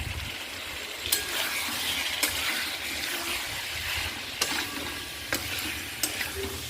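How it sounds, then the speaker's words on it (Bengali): Potatoes and prawns go into sizzling masala in a pan, with a steady frying hiss and several sharp clatters and scrapes of stirring spread through. "এবার আমি সমস্ত আলু আর চিংড়ি মাছগুলো দিয়ে দিলাম।"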